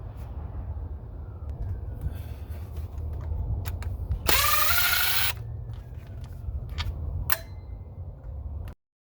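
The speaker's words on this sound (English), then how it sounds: "We're gonna remove the bolts for the intake manifold." A power tool whirs in one short loud burst while loosening 8 mm intake manifold bolts on a 1999 Pontiac Bonneville 3800 engine, over a steady low background hum, with a few clicks and taps around it.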